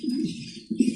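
An Indonesian colour pigeon coos in low, rolling bursts, close by, with a louder swell near the end as the throaty call repeats without pause.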